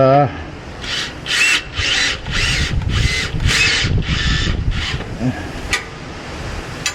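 A power drill tightens screws while fitting a turndown exhaust pipe on a 2024 Toyota Tacoma, close up in a string of eight or so short whirring bursts over a steady background rumble.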